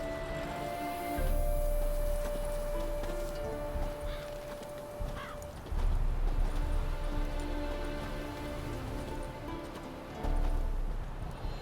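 Roach, a horse in the video game Witcher 3, moves with a steady clip-clop of hooves over a musical score, its footfalls swelling and fading in short stretches, with no talking.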